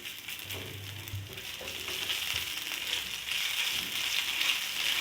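Cumin, garlic and ginger frying in cooking oil for a spicy paratha masala, a steady bright sizzle heard close and alone, growing slightly louder, with a brief low hum near the start.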